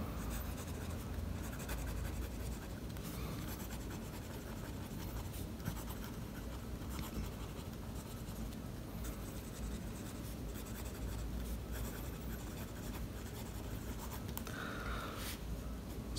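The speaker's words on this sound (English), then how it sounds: "Okay, so let me write something." A Jinhao 86 fountain pen with a wet fine nib writes on paper, giving a steady soft scratching close to the listener that continues without pause and with no talking.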